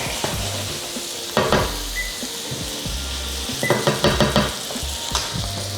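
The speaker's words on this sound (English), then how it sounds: "Let the mushrooms bathe in the butter." Mushrooms sizzle steadily in butter in a pan, a loud close frying hiss broken by a few bursts of stirring and clinks of a utensil against the pan, with no talking.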